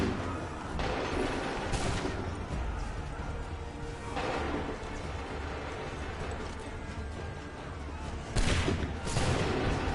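Musket volleys firing in Assassin's Creed 3, heavy booming gunfire in rolling bursts with sharp cracks at around two, four and eight seconds over a dense battle din.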